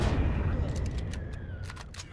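Sustained gunfire from a first-person shooter fight in the space survival game Empyrion Galactic Survival, set in an abandoned factory, with rapid overlapping shots, sharp bursts and dense low rumble throughout.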